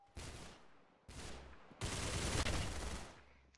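Gunfire in the Roblox-style shooter game Arsenal, three faint sustained bursts separated by short gaps, the last one longest and densest, with no talk.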